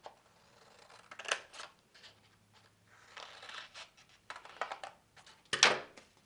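Scissors cutting paper leaves for a watercolor flower bouquet craft: a few separate close snips with quiet gaps between them, the final cut the loudest.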